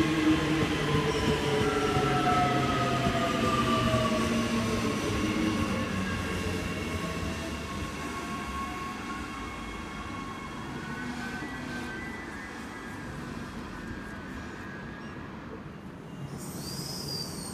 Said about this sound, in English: Cleveland service arriving into platform 1. SMU 250 is the leading unit.